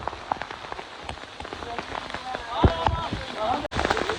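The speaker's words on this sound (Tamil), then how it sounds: "சரியான மழை" Heavy rain pattering on a surface at Rameswaram while fishermen go out fishing, with people talking briefly in Tamil over the downpour and a short cut near the end.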